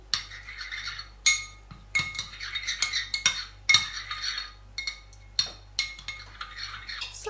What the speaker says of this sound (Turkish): Salçayı suyun içerisinde karıştırarak açın.